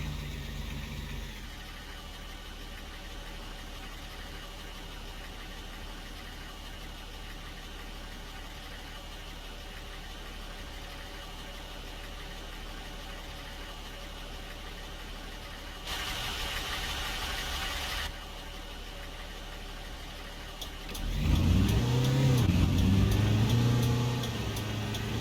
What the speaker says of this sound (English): Virtually silent engine again.